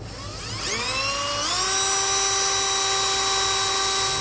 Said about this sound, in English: I'm going to start with a really small drill bit just to get a pilot hole going.